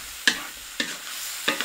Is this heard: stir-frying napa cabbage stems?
yes